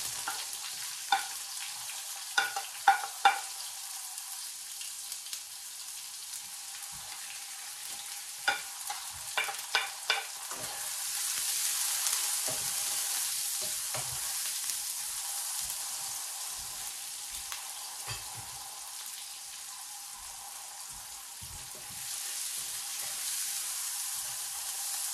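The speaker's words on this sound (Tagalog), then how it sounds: "We are cooking now our pancit because our patatim is nearly ready. And I will add now the onion." Onion stir-fries and sizzles in a pan for pancit, a steady hiss with a few sharp clatters of stirring in the first ten seconds, then a louder, even sizzle for the rest.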